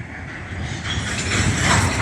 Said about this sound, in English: Looks like the freight train over there is moving now.